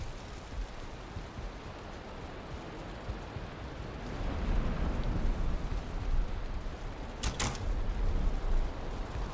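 Steady rain falls in the video game Valheim, a dense even hiss that swells slightly partway through, with a brief creak near the end and no talk.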